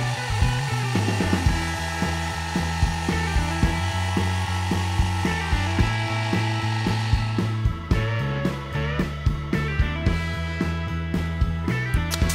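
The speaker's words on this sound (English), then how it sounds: "I rip them to width at the table saw and cut them to length of the miter saw." Table saw and miter saw cutting wooden lid parts for a large shoe storage box, with a humming motor under a series of sharp, rhythmic cutting bursts that come faster toward the end, close and loud.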